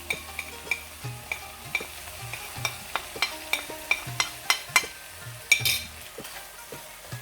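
A spoon stirs spiced mince qeema sizzling in a pan over a lowered gas flame, with repeated scraping strokes against soft, steady frying, fairly quiet and close.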